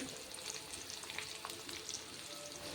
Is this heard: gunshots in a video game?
no